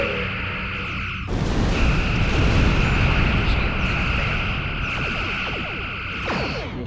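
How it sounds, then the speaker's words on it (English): A spread of torpedoes is launched at an Orion ship in the space game Star Trek Online. It is a loud, sustained roaring rush of weapon fire and blasts that lasts several seconds with layered electronic tones on top. "Target to nearest Orion ship. Full torpedo spread on my mark."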